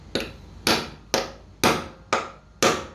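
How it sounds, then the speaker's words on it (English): Screws are hammered down into a servo motor mount, six sharp metallic taps spaced about half a second apart, close and clear against a quiet background. "You'll need to hammer them down"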